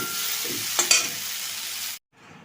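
Prawns that have finished frying in hot oil are lifted out of the pan, giving a steady broadband sizzle with a couple of brief clatters near the middle, before the sound cuts off and a quieter sizzle resumes.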